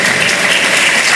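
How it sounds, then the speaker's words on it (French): Audience in a multipurpose hall at a university symposium applauds warmly, a brief, loud, dense burst of clapping with no voices. "Encore applaudissons ce matin notre professeur Fred Brutus chaudement."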